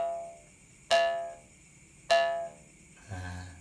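Two plucked twangs of the kuriding, a traditional Borneo jaw harp, on its middle tone: close, bright, buzzing notes that each decay over about half a second, with a softer, lower hum entering at the end.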